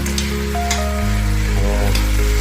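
Carrots and onions frying together in a single pot give off a steady, close sizzle under a low hum, with a few soft stirring clicks and no voices.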